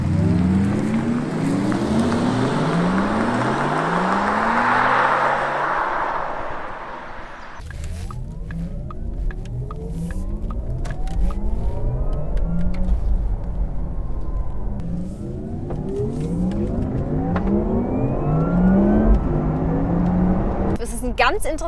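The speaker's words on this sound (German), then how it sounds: "dass man einen Sportsound einstellen kann, den man aber nur im Inneren hört" Inside a Porsche Taycan Turbo S electric car, an artificial sport sound swoops up and down in rising and falling sweeps as the car accelerates, steady and moderately loud throughout, with some background rumble.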